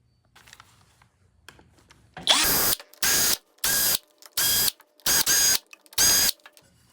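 A power drill backs screws out of a Punk Ride Pro electric scooter in six short, loud whirring bursts with brief pauses between them, after a few faint handling clicks.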